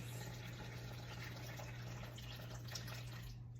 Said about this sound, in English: We're gonna do 250 grams of warmed water